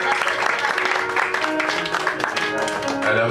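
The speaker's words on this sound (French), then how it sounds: "mesdames et messieurs, on l'applaudit" Audience clapping at a French poetry evening in a bar, a dense burst of applause over background music with some crowd noise throughout.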